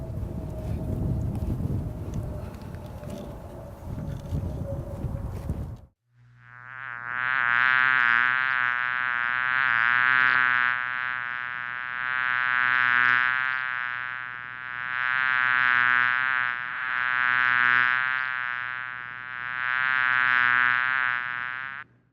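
A few seconds of wind rumble cut to a steady, droning buzz of honey bees from backyard hives that swells and dips in waves, close and continuous.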